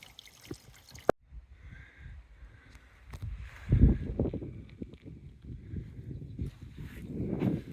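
Water trickles and gurgles softly from a pipe by the Goose River in Fundy National Park, with small drips and a sharp click early on, building to a slightly louder splashing flow toward the end.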